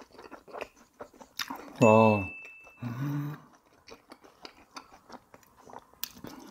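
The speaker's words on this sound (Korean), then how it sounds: "일단 떡볶이를 한번 그냥 먹어볼게요" Someone chews tteokbokki rice cakes up close, with soft wet smacks and crunches in an uneven rhythm, while a voice briefly exclaims partway through.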